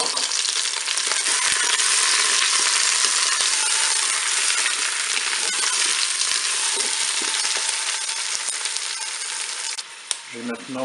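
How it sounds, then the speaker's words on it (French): Turkey roast searing with onions in a Cookeo multicooker, a steady dense sizzle and crackle of frying filling the whole stretch, close and even, with a few faint knocks near the end. "je vais faire dorer mon rôti sur toutes ses faces"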